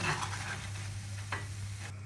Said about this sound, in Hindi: अब बाकी ब्रोकली को भी मैं ऐसे ही फ्राई करके निकाल देती हूँ।